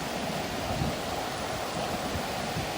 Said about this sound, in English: What a gorgeous little creek.